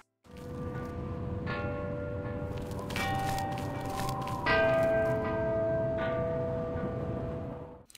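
Church bells ring out a slow melody in the Half-Life mod Bear Party Adventure, with several clear struck tones that ring on and overlap.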